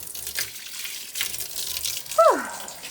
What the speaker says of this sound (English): So let's start running some hot water.